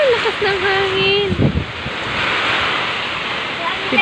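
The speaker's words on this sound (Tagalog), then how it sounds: "Lakas ng hangin" Strong typhoon wind during Typhoon Ulysses roars and gusts steadily against the microphone, with rushing rain or water noise and a brief voice cutting in near the start.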